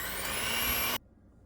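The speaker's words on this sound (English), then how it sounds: "I will just use regular mixer. So I will start with just mixing butter and sugar together" Electric hand mixer beating butter and sugar for cookie dough: a steady high-pitched motor whine, close and even, cutting off abruptly about a second in, leaving near silence.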